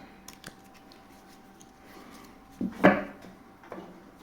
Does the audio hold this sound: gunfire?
no